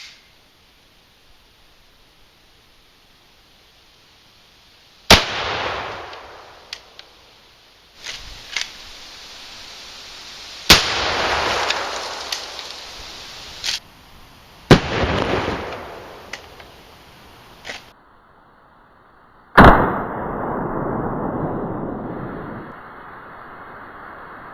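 A 12 gauge shotgun firing Remington 1 ounce lead slugs: several loud, sharp blasts spaced a few seconds apart, each followed by a short echoing decay, with quiet gaps between shots.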